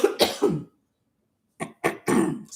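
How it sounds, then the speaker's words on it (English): Three harsh coughs in quick succession, a pause of silence, then a few more rough coughs, close and fairly loud. "I'm sorry, I'm coughing really bad."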